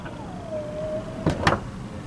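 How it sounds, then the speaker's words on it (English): On a 2022 Suzuki Across plug-in hybrid, a steady alarm tone sounds as the power rear door closes, followed by two sharp mechanical clunks of the motorized latch, fairly quiet and close. "as you push that button, you'll hear this alarm yet again. And this motor sound again."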